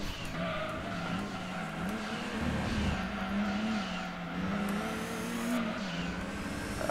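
A race car in the video game Gran Turismo 2, with a continuous engine drone that rises and falls as it revs and brief tire squeals along a straightaway, steady and fairly loud throughout.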